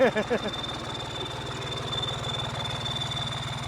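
A New Holland 3630 tractor fitted with an in-line pump idles steadily with a low, even chugging throughout, and a couple of short voices cut in at the very start.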